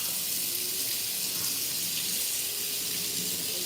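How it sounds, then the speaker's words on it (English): Water runs steadily from a tap as something is rinsed off under the flow, a continuous broadband hiss heard alone at close range for a few seconds. "Rinse that off."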